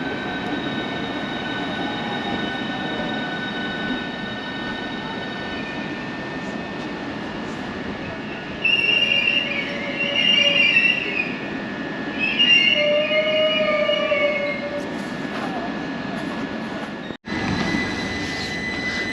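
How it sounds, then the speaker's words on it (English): Southeastern train pulling out of a station at Margate or Ramsgate, a steady rumble of wheels and carriages with several shrill, squealing wheel screeches rising over it midway. "now this train is leaving for Charing Cross via Dover."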